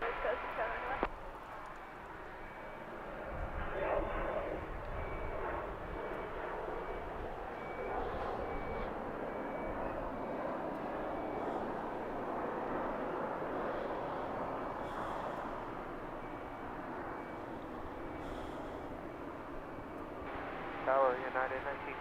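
Distant jet engines roar steadily at Los Angeles airport as aircraft line up on runway 25 right, a broad continuous rumble running the whole time beneath crackly radio talk.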